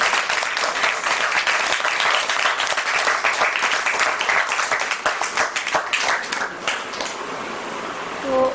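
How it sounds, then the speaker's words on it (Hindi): A room full of students applauds to welcome a guest doctor, a dense burst of clapping that stays steady and fairly loud for several seconds before thinning out toward the end. "उससे पहले इनका स्वागत तालियों से करिए"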